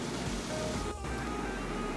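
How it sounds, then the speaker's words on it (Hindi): Chicken frying with onions over a high flame, a steady broadband sizzle that stays continuous and fairly loud throughout, with a brief dip in the middle. "चिकन को हाई फ्लेम पे 5 to 7 minutes तक फ्राई करेंगे"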